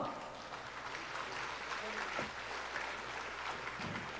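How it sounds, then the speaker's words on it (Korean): An audience at a nuclear safety regulation conference applauds as a committee member is welcomed to the stage, a steady, soft patter of many hands clapping heard from a distance across the hall. "박수 주세요."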